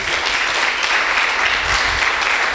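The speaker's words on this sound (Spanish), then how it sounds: "Dale un fuerte aplauso al Señor" Congregation at a church service applauding loudly, a dense, steady wash of clapping that runs evenly throughout with no pause and no clear voice above it.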